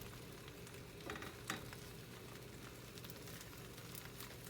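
Eggs fry in a pan on a stovetop with a steady, soft sizzle and faint crackle, broken by a couple of brief scraping clinks.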